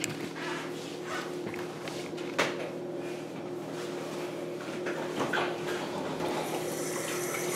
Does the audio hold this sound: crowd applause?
no